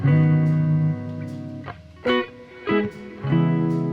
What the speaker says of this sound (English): now we have it going into the delay first and then the reverb